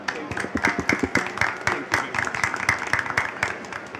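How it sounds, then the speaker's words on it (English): Audience at an award presentation during a 5G benchmark event clapping in a fairly sparse, uneven burst of individual claps, moderately loud and close, with no talk over it. "So please allow me to give you this symbolic award."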